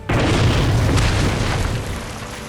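A tank shell detonates in an animated action series, a loud sudden boom that hits at once and then rolls into a long, slowly fading roar with no voices over it.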